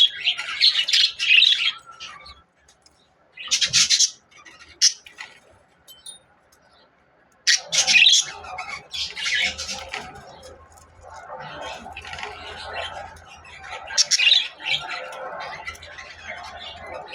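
Lovebirds, a pair of parrots, feeding each other give bursts of high chirps and squawks in several separate clusters, close by, with pauses of near silence and a person talking between.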